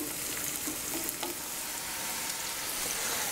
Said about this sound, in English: going to fry up our onions